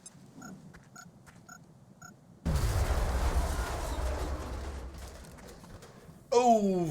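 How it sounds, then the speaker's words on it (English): Grenade blast in XCOM: Enemy Within: after a few quiet game blips, a sudden loud low boom that rumbles and decays for a few seconds, followed by a short burst of another sharp game effect. "Throw a grenade."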